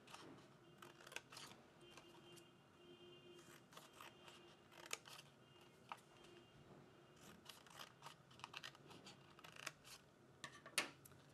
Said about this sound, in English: use our scissors to cut from each corner of the paper to close to the centre